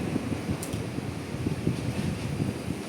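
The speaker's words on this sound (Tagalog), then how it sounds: "Oh, ang hangin ay lumalakas." Strong typhoon wind blows in Hong Kong under signal number 9, making a continuous dense rushing roar with slight gusting. It is buffeting the microphone, with no voices.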